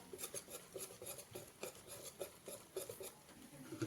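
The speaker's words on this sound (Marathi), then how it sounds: "अशा प्रकारे आपण एकसारखं चांगलं ढवळून घ्यायचं।" Rava idli batter with curd being stirred in a bowl, a quiet rhythmic scraping and clinking of a spoon against the bowl, repeating steadily with no talking.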